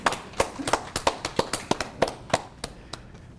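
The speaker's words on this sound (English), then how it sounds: "This is when you clap, right?" Applause from an audience after a dissertation defense, a sparse scattering of claps at a brisk, uneven rhythm that thins out and fades toward the end.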